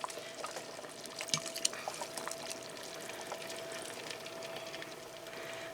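A flour mixture is poured into a corn, potato and ground chuck chowder in an Instant Pot, giving a soft, close liquid pour and gentle trickle with a few faint clinks and a quiet steady hum beneath.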